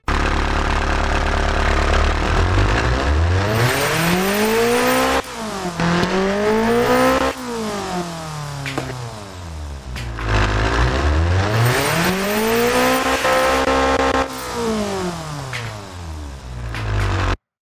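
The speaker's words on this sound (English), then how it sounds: "let's see if the sleeper car engine can hold up by doing a quick engine test right now" A sleeper car engine in the Automation car-building game revs up through repeated sweeps, climbing from idle to a high roar and dropping back several times, loud and close with no talking.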